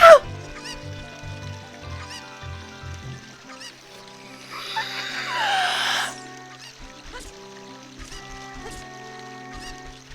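A Cucco chicken from the video game The Legend of Zelda: Ocarina of Time clucks and squawks, with a louder flurry in the middle, over game music.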